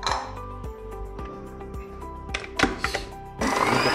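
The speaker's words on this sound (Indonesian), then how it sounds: "Kita kocok sampai creamy, sampai berubah warna, jadi dia lebih putih, lebih light. Oke, ini kita kocok pakai mixer." An electric hand mixer beats margarine and butter in a bowl with a steady motor whine. The beaters clatter against the sides in repeated close clinks, and near the end the whir rises to a louder, rougher pitch.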